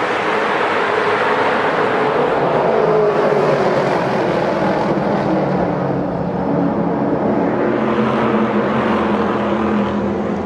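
Continuous roar of SRX race cars on a restart at Nashville Fairground Speedway, a dense blended engine drone that swells and dips slightly, heard from a distance with steady crowd-level wash.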